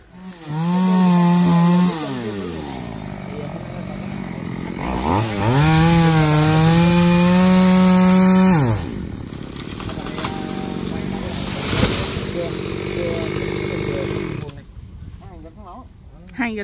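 A chainsaw roars in two long bursts, its pitch dipping as it bites into coconut tree trunks, then winds down to a lower idle before cutting off.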